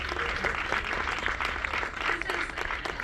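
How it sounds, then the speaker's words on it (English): Audience at the Italia Film Festival Awards in Los Angeles applauding, a dense, sustained wash of clapping from a sizable crowd, fairly close and even throughout with no break. "I actually have to ask you for a round of applause for Matteo Vicedomini."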